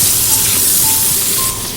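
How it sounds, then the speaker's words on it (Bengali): A steady hiss and sizzle of pointed gourd frying in hot oil with salt and turmeric, bright and close, fading slightly toward the end. "ভালো করে আমি পটলটা ভেজে নেব।"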